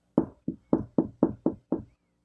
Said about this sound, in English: We is knocking on the door.